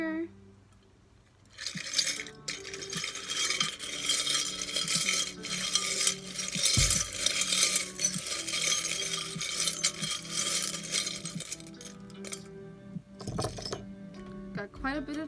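Small metal charms clink and rattle together in a charm bowl for a charm reading, with scattered bright jingles and clatter under a voice talking.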